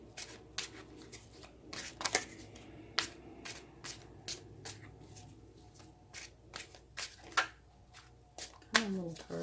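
Tarot cards are shuffled by hand in an irregular run of crisp riffling bursts and soft card slaps, close to the listener, with a quiet voice underneath at times.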